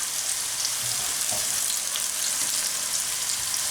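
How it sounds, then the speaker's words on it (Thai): Straw mushrooms fry in a pan over medium heat, a continuous, even hiss of sizzling oil up close with faint occasional stirring and no voices. "ค่อยๆคั่วทอดเข้าไปเรื่อยๆนะคะ ไฟกลางๆนะคะ"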